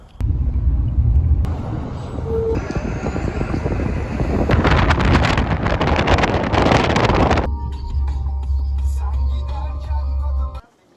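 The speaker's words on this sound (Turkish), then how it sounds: "Bu arada arabamızla yola devam ediyoruz." A car driving along a road at night in the Turkish countryside near Devrek, heard as a continuous low engine and road rumble with wind noise that rises and falls, steady throughout without talk.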